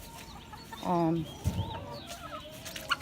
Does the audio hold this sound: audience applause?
no